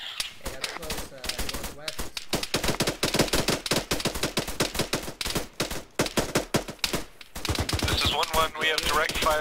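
Rapid bursts of automatic gunfire crackle in a military video game, dense volleys of loud sharp shots with brief pauses, and faint radio-style voices under the firing.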